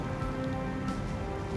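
Rain falls steadily in a storytelling piece, a soft, even patter of drops across a surface, faint and continuous with no voice over it.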